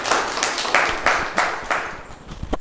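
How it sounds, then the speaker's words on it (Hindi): A school audience in Malwan, Jammu & Kashmir, claps for a teacher during a Sunday session, with loud, close, uneven bursts of clapping in a rough rhythm over roughly two and a half seconds. "राधु मैम के लिए तालियां दो"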